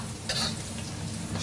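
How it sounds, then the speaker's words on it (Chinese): Chopped garlic stir-fries in a hot wok in a restaurant kitchen, a steady close sizzle with a brief scraping stir of the spatula near the start, with no talk. "这个大蒜煸的不要太固，稍微煸出香味就行"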